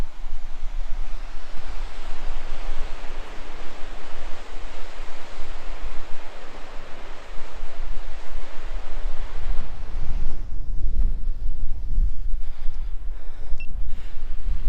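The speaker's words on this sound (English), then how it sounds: "it's a waterfall, and it looks just like this." Waterfall at the Loup of Fintry in Scotland, a steady, loud broadband roar of falling water close by, continuous throughout with a burst of low wind buffeting toward the end; no talking.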